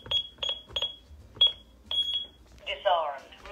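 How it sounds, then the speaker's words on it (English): A home security alarm keypad sounds a series of short, sharp electronic beeps in quick pairs and singles, close and fairly loud, followed by a brief burst of chirping tones. "Oh, my alarm is on."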